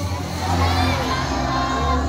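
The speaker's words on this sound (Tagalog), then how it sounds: "Now everyone, can you wave back and say, hello Jumbo?" A crowd of visitors, many of them children, calls out a greeting together to Jumbo the macaw at a safari park in Cebu. It comes as a loud, continuous mass of voices and cheering that fills the whole short moment.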